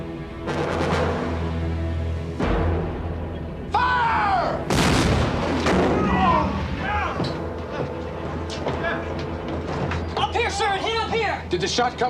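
A cannon shell slams into the hull of a ship in a naval battle, giving a loud heavy boom and thuds amid a chaotic, dense mix with shouting voices and other impacts.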